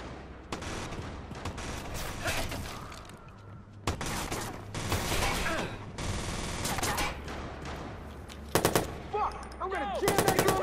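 Gunfire erupts in the Watch Dogs video game: repeated rapid bursts and sharp shots crackle loudly and close, coming in clusters across the scene.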